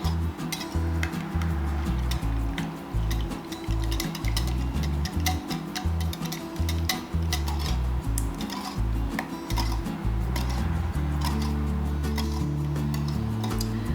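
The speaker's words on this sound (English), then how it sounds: "you're just going to keep whisking and whisking and whisking until all the ingredients become incorporated" Steady whisking of custard ingredients in a bowl for spiced apple bread pudding, with continuous rhythmic ticking and clinking of the whisk against the bowl over a low background hum, going on without pause.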